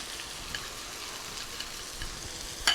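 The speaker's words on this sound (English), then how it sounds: "I'm going to throw in my green onion and my garlic." Green onion and garlic sizzle steadily in hot oil, a continuous crackling hiss up close with small pops and a sharper spatter burst right at the end.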